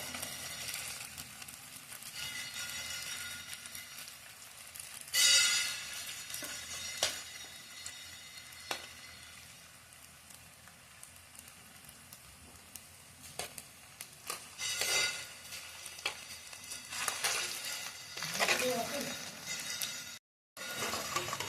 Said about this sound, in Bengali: ভালো করে ভেজে নেব লাল লাল করে